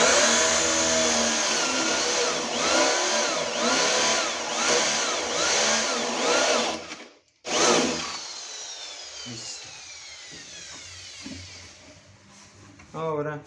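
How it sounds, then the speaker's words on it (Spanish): Power drill fitted with a spade bit boring into a wooden drawer to fit a cylinder lock: a loud, steady whirring grind that cuts off abruptly, then restarts and slowly winds down. "ponemos nuestra punta de la broca espada en todo el centro."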